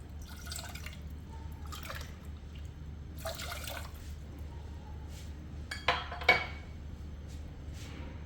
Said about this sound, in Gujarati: આમાં 2 કપ પાણી નાખશું.